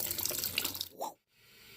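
Warm tap water runs into a tub for a bath, a soft hissing splash that briefly gurgles, then cuts out before a faint running trickle resumes.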